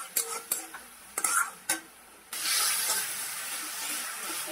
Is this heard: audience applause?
no